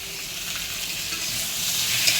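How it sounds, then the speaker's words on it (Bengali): Pieces of taro (mankochu) fry in hot oil in a pan, giving a dense, even sizzle that holds steady and close throughout. "এখন একটু কচুগুলো ভালো করে ভেজে নেব।"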